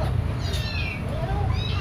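A cat meows repeatedly and up close in rising, wavering cries over steady low background noise, with no speech.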